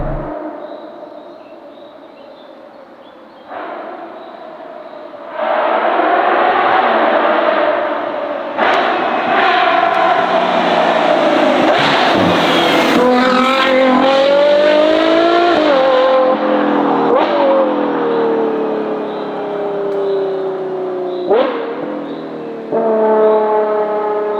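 A Novitec Ferrari Purosangue Esteso with a carbon widebody and new exhaust system revs hard, close and loud, its engine note climbing and falling in repeated sweeps with short gaps between throttle blips.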